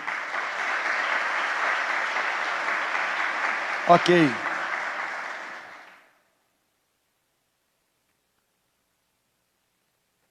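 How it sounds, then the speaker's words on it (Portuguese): A congregation at a Portuguese-language worship service applauds in a steady, hissing wash for about six seconds, a short voice breaking through near the end before everything cuts to silence. "Aplauda o Senhor pela palavra que você vai receber"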